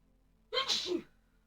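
A single close, sharp sneeze bursts out with a quick intake and explosive release, loud and alone against a quiet room.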